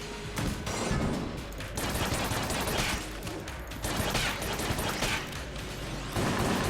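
Rapid pistol shots crack in the bullet-hell game Enter the Gungeon, with quick bursts of fire and mechanical clicks repeating across the stretch, fairly quiet overall with no talking.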